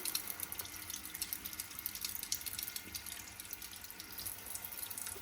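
Water runs steadily from an instant water-heater faucet, a continuous hissing splash at moderate level with no talking, lasting the whole stretch.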